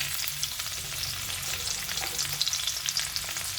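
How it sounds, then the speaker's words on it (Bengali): Potato pieces and chopped vegetables frying together in hot oil in a pan, a close, steady, dense crackling sizzle with faint stirring scrapes running throughout. "দিয়ে দিলাম আলুর টুকরোগুলো, এটা সবটাই একসাথে দিয়ে ভাজতে থাকবো"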